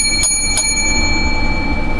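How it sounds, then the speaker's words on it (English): Two bright bell strikes ring out in quick succession near the start of a holiday show, each leaving a sustained metallic shimmer over a steady low background hum. "Seven lucky bells."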